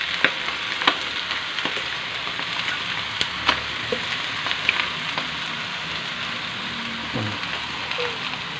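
Pork meat sizzling and frying steadily in a pan for Ilocano bagisen, a dense continuous crackle with occasional stirring clinks, close and loud with no talking.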